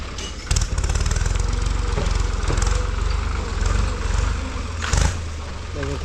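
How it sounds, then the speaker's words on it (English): A tractor engine runs near a market road, a steady low throbbing chug with a couple of louder knocks, close and continuous. "There's a tractor."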